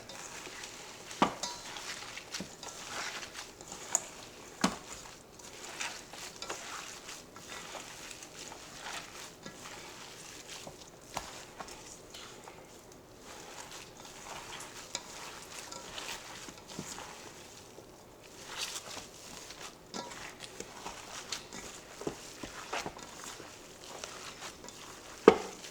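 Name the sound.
mixing meatloaf ingredients in a bowl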